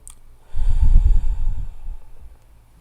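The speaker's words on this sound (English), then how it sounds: "This is diaphragmatic breathing." Slow, deep diaphragmatic belly breath, one long audible airy exhale close to the microphone, rising quickly and fading away over about two seconds.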